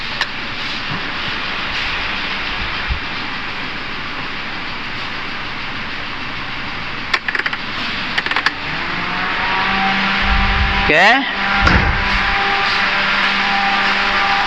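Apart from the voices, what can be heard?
Toyota Avanza engine idling with aircon on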